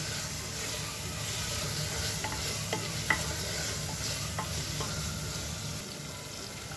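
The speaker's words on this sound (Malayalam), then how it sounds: "ഫ്ലെയിം ഒന്ന് ചെറുതായിട്ടൊന്ന് കുറച്ചിട്ട് ഇതൊന്ന് വഴറ്റിയെടുക്കാം" Spice powders are sautéed in a pan over a lowered flame with a soft, steady sizzle and hiss, and a few light spoon scrapes and taps come and go, close but fairly quiet, with no voices.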